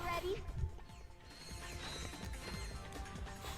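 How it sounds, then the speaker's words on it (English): A reused lift mechanism in the Ratchet: Deadlocked video game clanks and ratchets with gear-like clicks and a short crash early on, followed by a steady mechanical rattle over a low hum. "it's a lift thing that they reused from a previous game"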